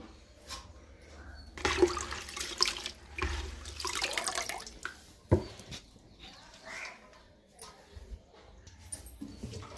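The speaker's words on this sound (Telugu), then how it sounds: "కందిపప్పు అయితే కడిగి ఇట్లా పెట్టేశాను" Water sloshes and splashes in irregular bursts as pigeon pea lentils are rinsed and stirred by hand, with quieter pauses between the pours.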